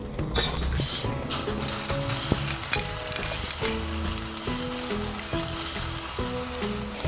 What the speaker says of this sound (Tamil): பேலன்ஸ் இருக்கிறதையும் அதே மாதிரி நம்ம எண்ணெயில் போட்டு எடுத்துக்கலாம்.